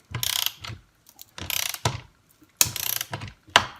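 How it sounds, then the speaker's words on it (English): A cordless 20V ratchet is worked by hand, giving four bursts of rapid clicking with short pauses between, close and fairly loud. "It works as a ratchet by hand."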